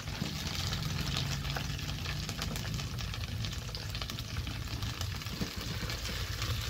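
Onion and tomato sizzle steadily in cooking oil in a pan, a continuous close frying hiss with no pauses for the whole stretch.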